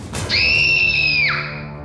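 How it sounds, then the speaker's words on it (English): A toddler lets out a single long, piercing scream at home, close and loud, holding a steady shrill pitch for about a second before breaking off; no talking. "I'll put you in timeout because you're screaming too much and too loud."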